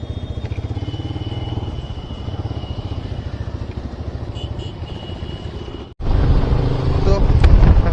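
A brand-new motorcycle, just delivered, rides off with a steady engine drone and wind buffeting, growing louder and rougher after a brief cut near the end.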